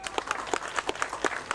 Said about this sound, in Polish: Brawa dla pana.